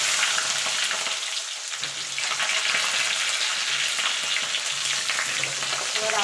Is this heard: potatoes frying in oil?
yes